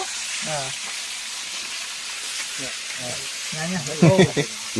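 Beef stir-frying in a pot sizzles with a steady, bright hiss throughout, while people talk intermittently over the cooking.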